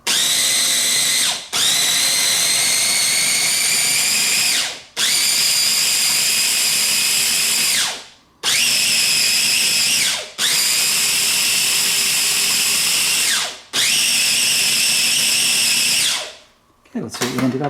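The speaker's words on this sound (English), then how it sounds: "we're just going to pulse back and forth with our food processor" Food processor pulsing pesto ingredients in a home kitchen, five or six loud motor bursts of a few seconds each separated by brief pauses, with a short final burst at the end.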